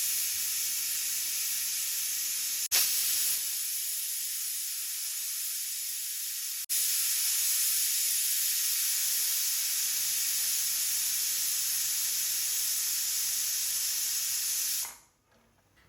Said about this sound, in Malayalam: ഇതാ ഈ ഒരു ടൈം കൊണ്ട് തന്നെ കുക്കർ വിസിൽ വരുന്നുണ്ട്